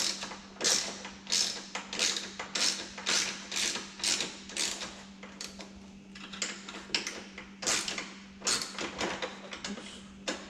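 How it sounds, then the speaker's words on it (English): Ratchet clicking in repeated bursts while snugging the Big Gun exhaust silencer bolts on a 2009 Yamaha YFZ450 quad, close and fairly loud with a steady background hum, no talking. "we're gonna throw the ratchet on there now, make sure it's on,"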